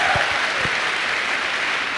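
A brief burst of dense applause from an audience at a business success-story event, steady and fairly loud for about two seconds.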